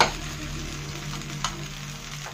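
Potato sabudana patties frying in a little oil in a pan, a steady close sizzle with soft crackle throughout and a couple of brief clicks.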